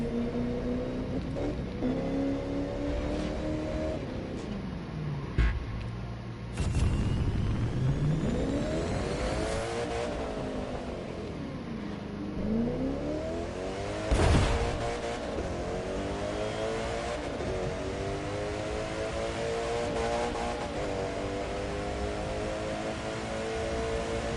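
A car engine in the racing game The Crew 2 revs up through the gears, pitch climbing and dropping back at each shift in repeated sweeps, loud and close with brief bangs at a couple of changes.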